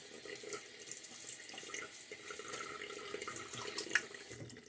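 Tap water runs steadily into a sink for a rinse during a wet shave, a constant close splashing hiss with a small clink near the end.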